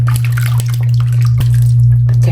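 Water runs steadily while a vintage Twist 'n Turn Barbie doll is washed, a continuous splashing flow with a low hum under it and a few small knocks.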